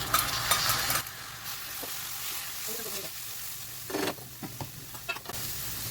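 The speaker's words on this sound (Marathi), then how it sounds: "आता यामध्ये आपण बारीक चिरलेला एक टोमॅटो टाकणार आहोत" Finely chopped tomato drops into a pan of onions fried until pink for a dried fish chutney, and a loud sizzle and frying hiss follow, then quieter stirring scrapes and taps close by.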